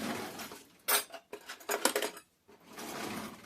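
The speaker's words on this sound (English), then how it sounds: "I have to use my Disney spoon from when I was a kid." A child's Disney spoon clinks and scrapes against pots and pans while cooking ham and vegetables, with sharp metallic bursts clustered through the middle and a steadier scraping sizzle at the start and end, close and moderately loud, no talking.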